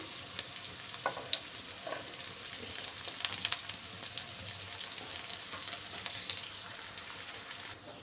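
Chopped onion and green chilies fry in a pan with a soft, continuous sizzle and faint crackle, rather quiet and steady throughout, with a few light stirring clicks and no talking.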